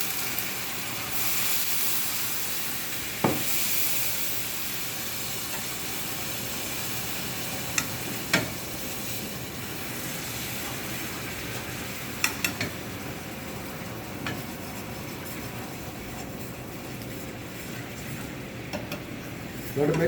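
Orange juice poured into a hot pan for a peach flambé sauce, a steady broad sizzle and hiss that holds throughout, with a few faint clinks of utensils on the pan.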